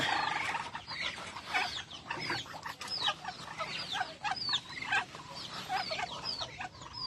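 Chickens clucking busily, several birds close by with overlapping short calls in a steady, chattering stream.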